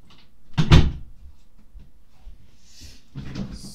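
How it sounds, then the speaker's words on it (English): A bedroom door closes once with a firm, close thump, followed by quiet room tone and a softer second knock-like sound near the end. "let me just close my door"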